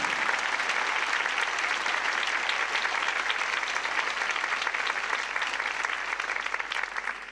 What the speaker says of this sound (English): Give it up for Josiah.